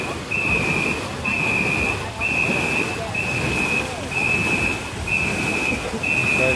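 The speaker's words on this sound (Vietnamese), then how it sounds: "Đây là anh thổi còi của huấn luyện viên trưởng." A head coach blows a whistle for the rowers of a ngo boat race crew, giving about seven evenly spaced, sustained shrill blasts over a noisy outdoor background of water and crowd rumble.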